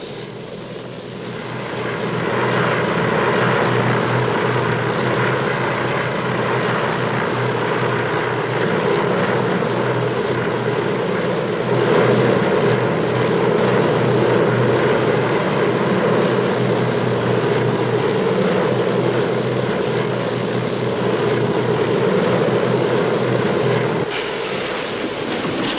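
Propeller airplane engine droning steadily in flight, heard from inside the cabin, with a constant loud hum and rushing wind that holds for the whole stretch without talk.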